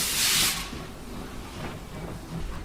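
A loud burst of steam hissing from a steam locomotive for about half a second, then fading into a low rumbling background with faint mechanical noise.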